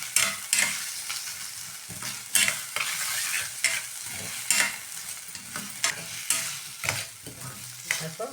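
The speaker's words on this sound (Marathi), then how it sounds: "मिडियम गॅसवरती आता हे बटाटा आणि आपण ही भगर टाकलेली व्यवस्थित परतून" Potato and barnyard millet stir-fried in a pan over medium gas, with steady frying sizzle and repeated scraping strokes of a spoon against the pan, close and fairly loud, no voices.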